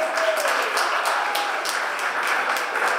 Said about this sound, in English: So let's give a round of applause for everybody that's here today.